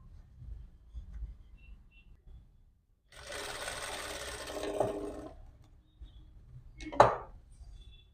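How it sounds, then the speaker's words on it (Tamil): Sewing machine stitching a blouse (three-dart jacket) seam, a steady mechanical whir running about two seconds, followed by a brief sharp burst; quiet room with faint handling noises, no talk. "அப்படியே உள் பக்கமாக திருப்பி தையல் போட்டுருங்க"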